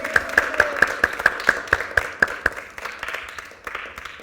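A group of children claps in a steady, even rhythm of about a dozen beats, then breaks into looser scattered clapping that fades out.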